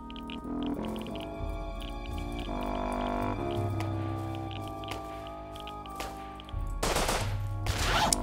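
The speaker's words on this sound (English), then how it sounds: "I'm getting shot from everywhere" Gunfire in the survival game Rust Legacy, rapid automatic bursts with sharp individual shots overlapping, loud and close, intensifying near the end amid a steady background drone.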